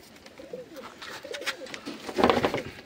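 Soft pigeon coos murmur close by in a few low, rolling phrases, faint and alone, ending in a brief louder rustle.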